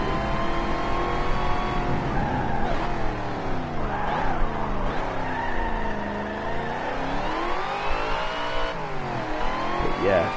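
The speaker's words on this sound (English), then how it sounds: "With the world's most annoying supercharger from this group." A supercharged car engine in the Forza racing game revs and winds up and down repeatedly with a whining supercharger, loud and continuous, with no talk over it.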